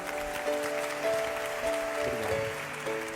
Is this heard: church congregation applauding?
yes